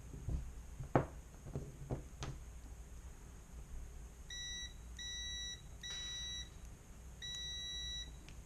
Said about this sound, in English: We can try beeper function.